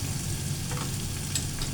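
Turmeric, chilli and coriander powder sizzling in hot oil as they are stirred in a pan, a steady close crackle with a few soft scraping touches of the spoon.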